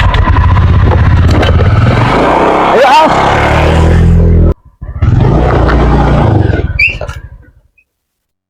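A motorcycle engine roars loud and close, dropping out briefly before revving up again and fading away, with a shout and chatter over it in a Sundanese comedy sketch about buying fuel.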